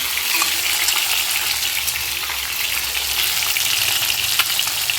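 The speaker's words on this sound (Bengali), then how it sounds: "এবার এই পিঠটাকেও আমি ভালোভাবে ভেজে নেব" A piece of katla fish fries in hot oil in a pan after being turned over, giving a steady, close sizzle flecked with small crackles and pops, with no talking.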